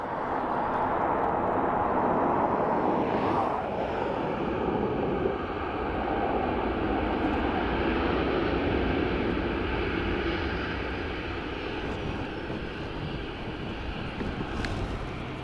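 Jet airliner on the runway at Dublin Airport during landing, a steady broad engine roar with whine, sustained and fairly loud at a distance, no talk.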